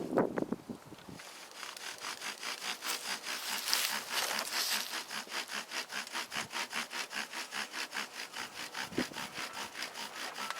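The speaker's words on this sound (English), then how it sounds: "Spindle's riding really nice." Bow drill spindle spinning on a wooden hearth board, fast rhythmic back-and-forth rasping strokes, close and steady for about ten seconds after a brief rustle at the start.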